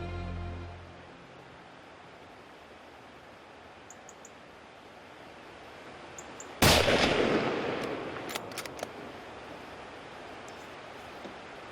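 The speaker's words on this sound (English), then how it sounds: "I immediately got set up in a position to make the long-range shot." A single long-range rifle shot cracks out during a hunt in Ireland, a sudden sharp blast after a quiet outdoor stretch, followed by a rolling echo and a few faint clicks and knocks.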